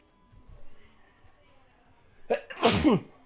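A single loud, close sneeze bursts out after a quiet stretch of faint background sound, with a sharp intake followed by a forceful, noisy explosion.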